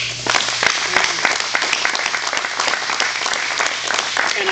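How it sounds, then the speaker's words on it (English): An audience claps steadily for police officers and firefighters at a public announcement event, a dense, even round of applause that carries on alone without talk. "please join me as we applaud them"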